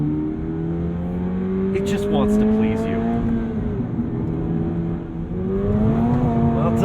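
Toyota GR86 engine pulling hard on a twisting canyon road, a steady loud drone with pitch rising and falling through gear changes, running continuously under someone talking.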